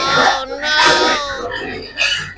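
Hungry native pigs grunt and squeal in rough, loud bursts close by in a pen of nine, several calls overlapping in quick succession.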